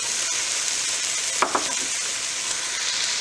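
Potato chunks tossed into a pot of bean and ham soup over a steady background hiss, landing as two quick, close splashes one after the other.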